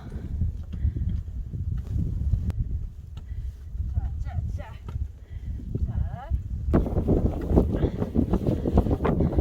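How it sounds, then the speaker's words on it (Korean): Strong wind gusts roar across an exposed mountain summit, blustering steadily and close to the microphone. People speak intermittently beneath the rushing air, which swells louder toward the end. "정상에 올라오니까. 바람 불고 추워요."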